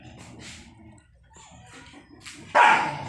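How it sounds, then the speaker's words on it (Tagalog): Several dog barks and yips sound at a distance, scattered and fairly faint, ending with one louder, closer bark. "Ito yung mga aso."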